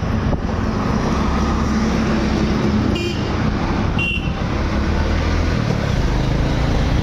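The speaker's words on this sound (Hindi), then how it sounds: "ये पूरा जाम यहाँ पे लगा हुआ है" Stalled road traffic on the Sherghati–Amas road during a Bharat bandh, with a steady drone of idling engines close by and two brief horn toots partway through, no speech.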